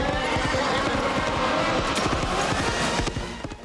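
A horse gallops with dense, rapid hoofbeats under a loud, full movie score, with scattered shouting and scuffling in a tense chase scene from the 1999 film Sleepy Hollow, fading slightly at the end.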